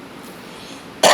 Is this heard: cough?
yes